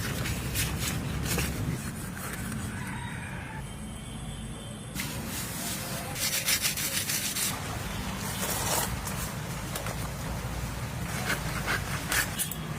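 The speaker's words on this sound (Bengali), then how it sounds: "এবারে ডুমোর পাতা দিয়ে ভালো করে ঘষে নেব।" Fresh village magur catfish are scrubbed by hand with rough dumur fig leaves, giving repeated rasping, rustling rubs in irregular bursts, close and fairly loud.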